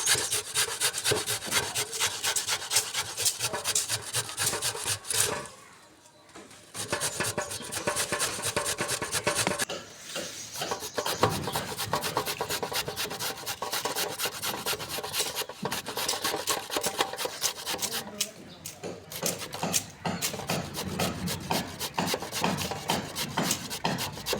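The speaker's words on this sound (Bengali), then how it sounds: "আমি এখন প্রথমে গাজরগুলোকে ভালো করে মেশিনের সাহায্যে কুচি কুচি করে নেওয়া হবে" Carrots are finely chopped in a kitchen machine: a steady, dense rasping and grinding churns almost nonstop and close by, broken by a couple of brief pauses.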